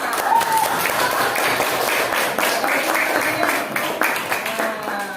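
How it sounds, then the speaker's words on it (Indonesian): A group of people clap hands steadily in a room during a class demonstration of a lighting experiment, the claps forming a dense continuous patter with some cheering voices mixed in. "Mantap, tepuk tangan."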